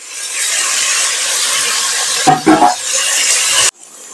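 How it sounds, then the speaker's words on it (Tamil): Tomatoes and green chillies sautéing in a pan give a steady, close broadband hiss with a few brief clattering stirs near the end before the sound cuts off abruptly. "நான் தக்காளி பச்சை மிளகா சேர்த்துக்கிறேன்"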